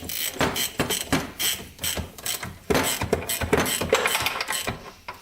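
Engine case of a Yamaha Raptor 700 ATV, left outdoors for 13 years, being worked apart with tools: rapid, close, irregular metallic clicks, ratcheting and knocks in quick bursts, with no speech.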